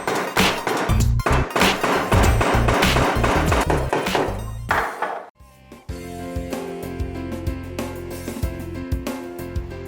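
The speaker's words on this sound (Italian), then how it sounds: "vi consiglio di dare qualche colpo di martello sul cacciavite come sto facendo io" A hammer strikes a screwdriver in a rapid series of sharp, loud metal taps while a faulty gas hob spark igniter is being removed, pauses for a moment, then continues with lighter ringing knocks.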